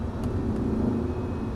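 An Audi R8 accelerating on the Paul Armagnac race circuit, its engine giving a steady, close rumbling drone for a brief moment with no speech.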